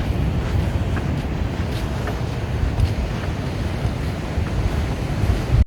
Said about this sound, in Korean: 저기 파도가 오네